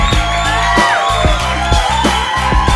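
A live audience at a comedy show cheers and whoops over a loud crowd roar, with sharp thumping beats and shouted calls rising above the steady din.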